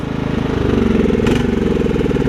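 A Kohler Command engine on a Craftsman riding mower runs steadily at a low idle, a loud close rumble with a brief burst of higher noise partway through and no clear shutoff.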